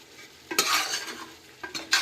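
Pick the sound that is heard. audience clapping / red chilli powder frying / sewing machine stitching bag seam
red chilli powder frying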